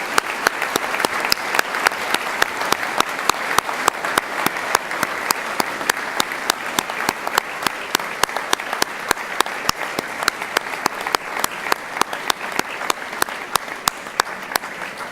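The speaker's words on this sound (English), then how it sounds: "join me in a round of applause to say thank you to those who have helped you achieve your award" Sustained audience applause at a university graduation ceremony, steady and dense throughout, a large crowd clapping in thanks to graduates' families and friends with no voices over it.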